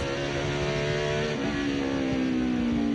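A 1999 NASCAR Craftsman truck engine accelerates hard in first gear during a race at Portland, its loud, steady harmonic roar climbing in pitch, then shifting and climbing again, with no pause.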